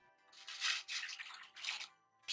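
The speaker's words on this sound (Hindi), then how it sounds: "इसके अंदर मैं डाल दूंगी पानी" Water poured into a cooking pot while preparing pickled cucumbers, splashing in several short bursts with brief pauses, close and fairly quiet.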